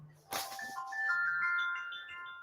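A mobile phone rings with a short melodic ringtone right after a sharp knock, the tones sounding close and clear in a quiet room.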